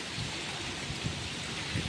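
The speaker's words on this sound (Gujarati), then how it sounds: "જુઓ જે વાવાઝોડું જુઓ ફૂલ પવન ને ફૂલ વરસાદ ચાલુ ચાલુ ચાલુ જ છે જુઓ" Heavy rain driven by strong wind during a storm with flooding, a steady dense wash of hiss with no pauses and no voices.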